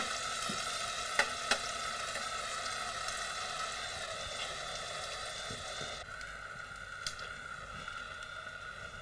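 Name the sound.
onion and shallot frying in veal kidney fat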